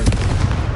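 A Confringo blast spell cast in the Hogwarts Legacy video game, a dense booming burst with heavy low rumble that sounds like sustained explosive fire across the whole moment, loud and close.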